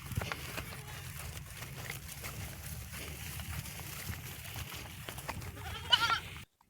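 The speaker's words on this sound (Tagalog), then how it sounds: "Ito yung mga kambing ko, guys." Goats on a small farm in Argao bleat briefly near the end, a short cluster of calls over steady low outdoor rumble and rustling.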